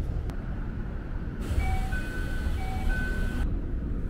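A mountain train on Mt. Takao, Japan, rumbles steadily along with a low mechanical drone, and a short series of two-tone electronic chimes sounds partway through.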